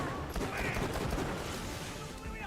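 Dense, rapid gunfire from a shootout in the video game Borderlands: The Pre-Sequel, with bursts layered thickly over busy game noise.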